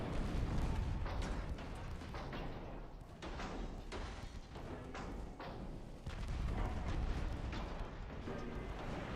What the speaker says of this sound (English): Okay, torpedo hit.